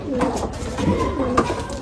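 A desi pigeon held in a hand gives soft, close throaty coos in a couple of short bursts, with a faint voice in the background.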